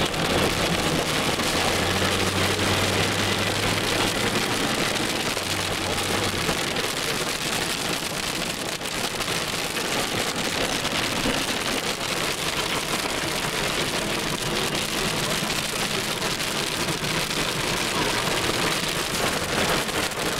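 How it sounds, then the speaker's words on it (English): A dense, steady roar of hail pelting surfaces in San Dimas, Southern California, constant and loud, with a low rumble beneath it early on. "It's hailing like hell out there."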